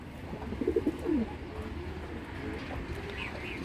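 Racing pigeons give a few soft, low coos near the start, quiet and brief against a faint background hum.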